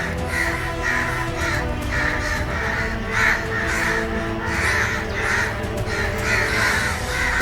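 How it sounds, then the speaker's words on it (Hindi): A large flock of crows caws continuously, many harsh calls overlapping in a steady, dense chorus that stays loud throughout with no voices present. "और इतने सारे कौवे कहां से?"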